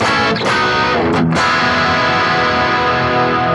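An electric guitar runs through a pitch shift effect on a Boss GT-1000, giving a loud distorted sustained tone with a couple of quick sweeping bends near the start before it rings out steadily.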